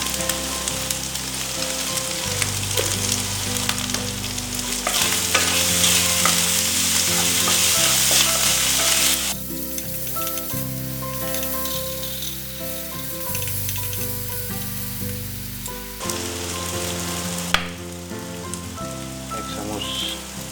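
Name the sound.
pork with banana flower and spices being stirred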